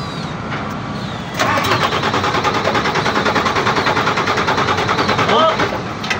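A Weichai diesel engine in a jeep cranks and catches, then runs and revs loudly and steadily close by with a rough, rattling tone.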